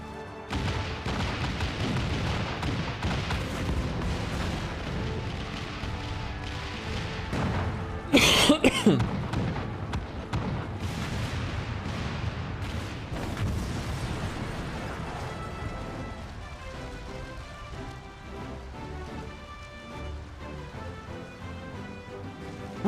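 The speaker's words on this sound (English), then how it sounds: "All cannons resume firing!" Cannon fire in a battle in Final Fantasy XIV, heard as repeated booms and bursts layered in a dense wash of battle noise and music, with one especially loud blast near the middle.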